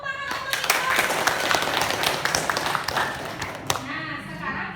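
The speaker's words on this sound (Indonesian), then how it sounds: "bagus, tepuk tangan untuk Iqbal." Classroom applause for a student, a burst of many hands clapping at close range with sharp irregular claps and taps, voices mixed in, fading toward the end.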